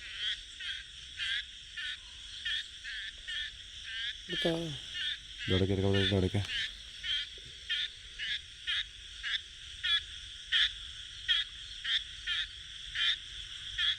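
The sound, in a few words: frog calling while attacked by snake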